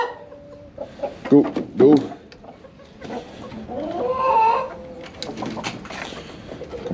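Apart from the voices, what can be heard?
chickens clucking and a rooster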